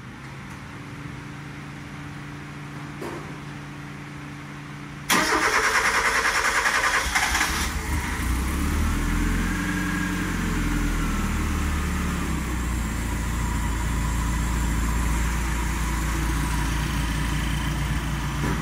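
A drift car engine cranks over around the five-second mark after a quiet stretch, catching into a loud, steady idle that rumbles on alone and close-up for the rest of the clip, with no talking.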